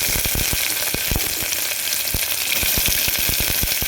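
Onions frying for a cauliflower biryani hiss loudly and steadily in a pan, broken by a quick run of sharp scraping knocks as they are stirred, with no voices.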